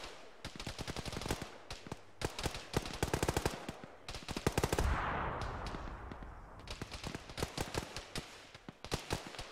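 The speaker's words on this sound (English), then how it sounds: "We got jerks on the northwest hilltop shooting at us." Rapid bursts of automatic gunfire from a hilltop in an Arma ShackTac battle: repeated sharp cracks in clustered volleys, with a rumbling blast in the middle and more bursts after.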